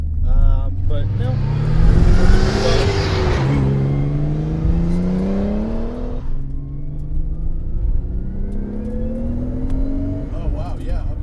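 A 500 WHP twin-turbo Nissan 300ZX with a short-shift mod accelerates hard, its engine note climbing loudly through the gears with turbo whir, then dropping at a shift and pulling again, heard from inside the cabin.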